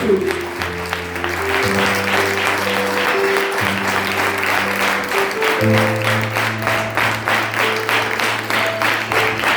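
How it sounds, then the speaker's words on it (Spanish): A church congregation applauds loudly during worship while sustained organ or keyboard chords keep playing underneath, the clapping steady throughout. "Dale fuertes y aplausos a Jesús."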